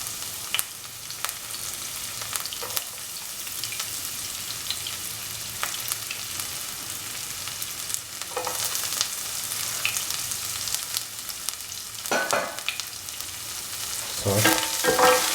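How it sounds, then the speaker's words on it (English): Finely chopped onions fry in hot oil, giving a continuous close sizzle with scattered clicks and scrapes as a spoon moves them around the pan, growing a little louder toward the end. "Put in the onions, which have been cut into small pieces."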